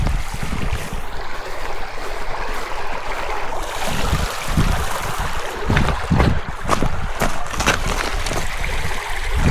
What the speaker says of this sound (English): You can see creek on the property there and some on the other side.